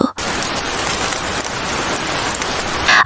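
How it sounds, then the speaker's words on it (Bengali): Heavy rain pours onto a tin roof in a village during a storm, a loud, dense, continuous patter that stays close and unbroken throughout. "বাইরে তখনও বৃষ্টি ঝরছে, টিনের চালে টাপুর টুপুর শব্দ"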